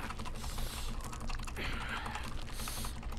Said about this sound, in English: Hear my keyboard going crazy.